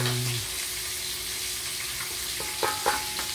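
Onion and garlic frying in a pan with mackerel and tomato, a steady broad sizzle throughout with a few brief clinks and scrapes near the end.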